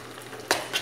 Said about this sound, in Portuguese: pega a porção e já vai fritando